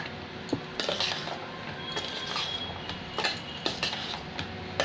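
Chaat ingredients, including raw mango, being stirred together in a bowl, with repeated light clinks and scrapes of a spoon against the bowl at close range, steady and busy throughout with no talking.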